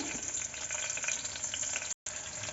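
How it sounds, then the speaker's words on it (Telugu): Sliced onion frying in hot oil for a cooker pulao, a dense continuous crackling sizzle close up, broken only by a momentary cut near the end. "ఆయిల్ వేయడక్కగానే అందులోకి మనము ఒక ఆనియన్ కట్ చేసుకొని వేసేసుకోవాలి"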